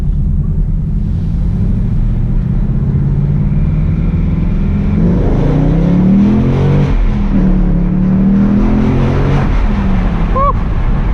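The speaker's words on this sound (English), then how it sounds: "After all, this car sounds amazing." A 2018 Ford Mustang GT V8 driven at night with a window down, its engine droning steadily, then revving hard through rising sweeps during acceleration and a gear change, loud and close throughout.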